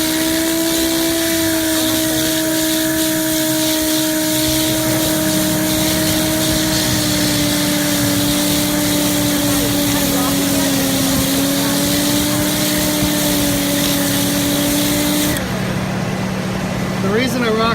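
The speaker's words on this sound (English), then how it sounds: "The reason I rock the sander is because this is a curved surface." A sander rocks across body filler on the curved body panel of a 1963 Shasta Compact trailer, producing a loud steady whine with a drifting hum that cuts off near the end, followed by brief voice.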